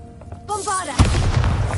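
Bombarda spell explosion in Hogwarts Legacy, a sudden deep boom following a brief shouted voice, then a rumbling, crackling tail that lingers close and loud.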